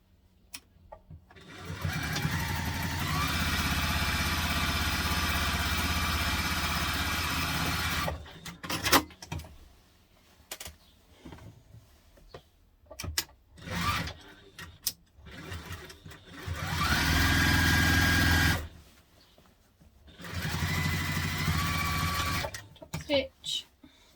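A sewing machine top-stitches a teddy mommy-and-me backpack in long, steady whirring runs separated by pauses, close and fairly loud, with a voice speaking in the gaps.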